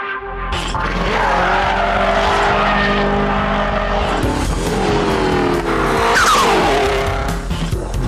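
A loud, roaring Prodrive P2 engine, a Subaru Impreza unit with a bigger turbocharger, revs and shifts continuously in Live for Speed, with tires squealing and skidding through a turn near the end.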